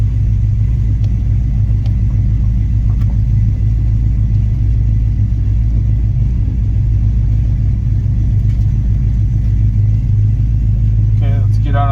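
An OBS shop truck driving on the open road, its engine giving a loud steady rumble throughout, with brief speech near the end.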